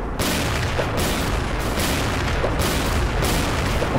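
Sniper rifle shots in the video game XSHOT, a loud, steady barrage of booming gunfire with several sharper shot bursts roughly every half second to second.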